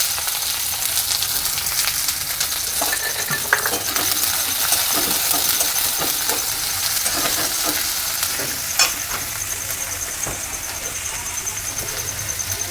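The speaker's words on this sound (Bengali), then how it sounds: "আমি তেলটা গরম হয়ে গেছে, আমি পেঁয়াজ কুচিগুলো দিয়ে দেব।" Chopped onions fry in hot mustard oil for a Bengali fish cutlet, a loud, steady crackling sizzle with occasional scraping stirs and metal clinks from the pan, and no talking.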